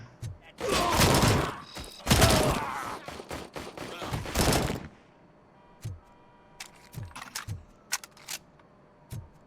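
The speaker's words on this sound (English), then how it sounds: "Stop throwing grenades at me." Grenade blasts in the video game Robocop: Rogue City, several heavy booming explosions in quick succession, loud and close, followed by scattered sharper gunfire thuds and impacts at lower level.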